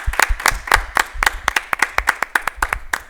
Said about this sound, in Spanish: Sí, un aplauso, un aplauso